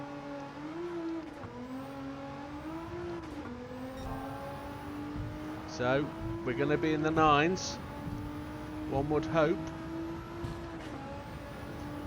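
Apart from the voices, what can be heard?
race car engine, A110 with GTR engine swap, video game Gran Turismo 7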